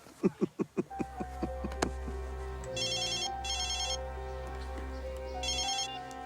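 Telephone ringing with repeated electronic trilling bursts, three rings separated by short gaps, after a series of quick knocking sounds at the start, fairly close and clear.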